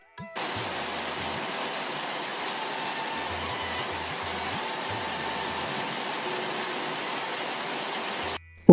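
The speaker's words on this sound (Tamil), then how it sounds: "ஒரு வழியா 2 மாதம் கழிச்சு மழை பெய்தது." Steady rain falls without a break, a dense even hiss that holds for most of the stretch and then stops abruptly.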